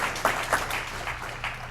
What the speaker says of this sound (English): you can applaud if you'd like.